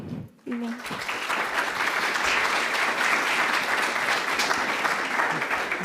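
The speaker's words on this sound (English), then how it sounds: "Round of applause for Julia." Steady audience applause at an international education forum swells after a brief voice at the start and continues evenly and fairly loud for several seconds.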